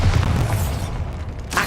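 Bombarda blasting spell in Hogwarts Legacy, a single loud, deep booming explosion with rumbling low end that fades over about a second, followed by a brief crackling burst, no talking.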